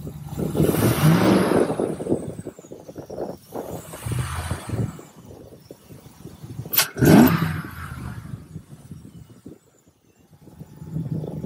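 An idling car engine fitted with an aFe cold air intake rumbles, then gets a couple of revs that rise and fall, with wind buffeting the microphone.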